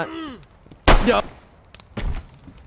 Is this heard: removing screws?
no